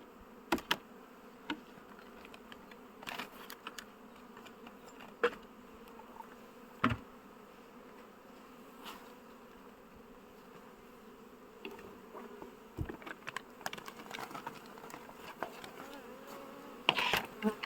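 Honeybees buzz around a beehive during a colony inspection after cold weather. Faint, steady droning fills the background, and sharper close fly-bys from individual bees pass the microphone at irregular intervals, with no voices.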